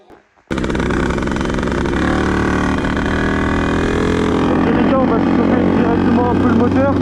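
Beta 50cc supermoto motorcycle engine, cold at about 10 degrees, firing up abruptly after a short quiet moment and idling loudly and steadily close by, with a buzzy, even two-stroke drone.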